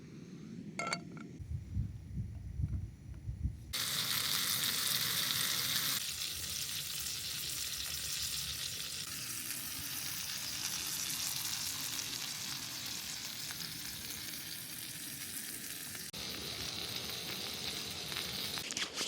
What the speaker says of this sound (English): So that's sizzling away.